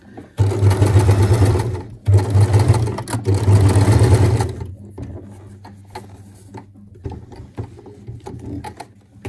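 Sewing machine stitching a skirt seam, with the motor humming in three steady bursts, the last one longest, then stopping and leaving quieter handling clicks and rustle nearby.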